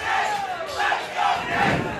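A crowd of about a thousand people at a boxing event at the Castleton cheers and chants in rolling, rhythmic waves. The roar fills the room steadily, with no clear commentary on top.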